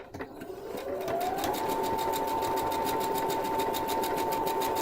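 A computerized quilting sewing machine starts up and spins to speed, then runs in a steady, close, rapid stitching hum with a fast even rhythmic beat.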